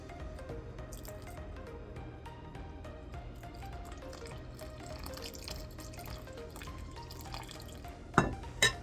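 Ice cold water trickles and drips into a bowl of pie crust dough, a quick patter of small droplets throughout, with a couple of louder clunks at the end.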